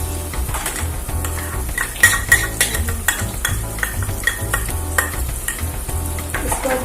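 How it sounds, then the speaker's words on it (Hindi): Chopped onion frying with whole spices in a pan for a fish curry sizzles steadily, with scraping stirs and occasional metallic clinks, beneath soft background music. "खड़े मसाले थोड़े भून चुके हैं, हम इसमें"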